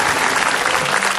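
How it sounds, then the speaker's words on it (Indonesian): A television studio audience on an Indonesian talk show applauds steadily, a dense, even wash of clapping that holds at full level throughout without a break. "Berikan tepuk tangan dulu buat mereka semuanya."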